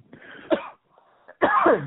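A few harsh coughs close by, two main bursts separated by a short pause, with no speech.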